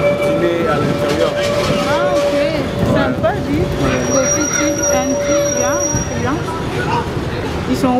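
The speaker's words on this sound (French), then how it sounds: "Ça c'est un ancien tram." An old tram, now run as a tourist tram, rolls past on city rails with steady rumbling and high wheel squeal throughout, while people talk nearby over the noise.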